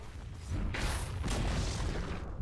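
In Dota 2, the Dire's top tower collapses with a rumbling, dull boom that swells into a sustained crumbling roar and lasts a couple of seconds at loud volume.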